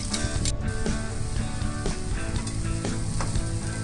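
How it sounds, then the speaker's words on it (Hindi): Chopped onions fry with cumin in a pan, giving a loud, continuous sizzle close by, with occasional scraping and stirring from a spoon and no talking. "तो अच्छी तरह से फ्राई करना है प्याज को।"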